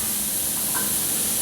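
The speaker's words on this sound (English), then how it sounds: "Got a nice sizzle going on." A steady, dense sizzle of wood ear mushrooms frying in a hot pan, constant and close with no talking.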